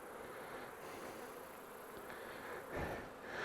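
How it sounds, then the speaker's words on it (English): A honeybee swarm pours out of a hive entrance, giving a steady, dense, low buzzing that holds evenly throughout with a brief louder swell near the end. "they're still piling out of the hive number 2"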